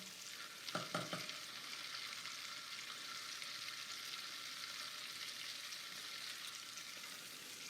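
Butter cooks down in a pan for brown butter sugar cookies, giving a faint, steady sizzling hiss with a couple of small pops near the start.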